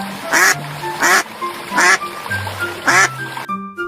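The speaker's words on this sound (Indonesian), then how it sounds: "Bebek." A duck quacks four times in short, evenly spaced bursts, loud and close, with soft tonal background sounds between the calls.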